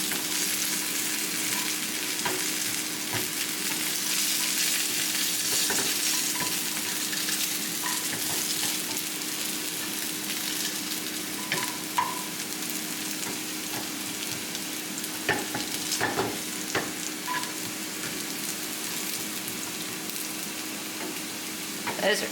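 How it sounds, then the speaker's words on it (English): Home fries crisping in a pan, a steady close sizzle and crackle that runs the whole time, with occasional stirring scrapes and light clicks and no talk. "Those are crisping up very nicely. I'm going to check on the fries."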